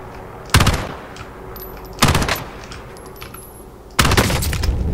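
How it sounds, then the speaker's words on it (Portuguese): Three short bursts of gunfire from a burst-fire weapon in the Call of Duty Warzone video game, spaced about a second and a half apart, each a sharp cluster of rapid shots, loud and close with quiet gaps between. "minha arma é de rajada ainda"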